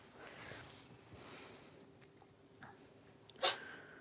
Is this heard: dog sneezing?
yes